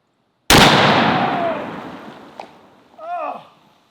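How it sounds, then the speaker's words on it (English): A single very loud, close gunshot from a .600 Overkill rifle fired from a kneeling position cracks sharply and then rolls off in a long, fading boom over a couple of seconds, followed by a brief exclaiming voice. "let's shoot one of the most powerful rifles in the world from a knee again"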